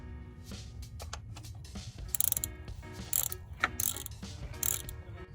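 A ratchet with a 13 socket works on the bolts of a car's slave cylinder, clicking in rapid bursts between short pauses, close up over a steady low mechanical hum.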